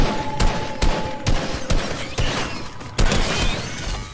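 Repeated gunshots ring out in Fortnite while firing at a raptor, roughly eight sharp cracks spaced about half a second apart, loud and close, with mechanical clicks between them.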